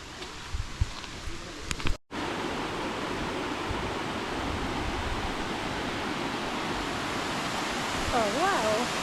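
Waterfall at Minyon Falls on the Tweed Coast, a broad, steady roar of falling water heard close by. It runs continuously after a brief moment of rustling at the start.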